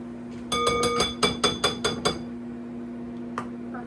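A spatula with Dijon mustard knocks and scrapes against the rim of a mixing bowl in a kitchen: about eight quick, bright clinks in a steady run, close and fairly loud over a low, constant hum, then one softer tap.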